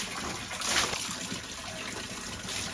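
Bathwater splashes and trickles steadily over a Rottweiler dog in the sun, a continuous close wash of running water with a brief louder gush near the start.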